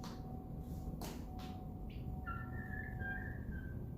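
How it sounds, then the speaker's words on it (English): A young chicken gives a thin, high whistle, a few short rising and sliding notes over steady quiet background hiss, faint and fairly close. "there's a little whistle from our Stormy there"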